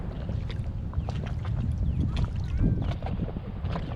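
A Sea Eagle inflatable kayak being paddled downstream on the Columbia River, with close, steady water swishing and rumble from wind buffeting the microphone, plus faint splashes from the paddle strokes.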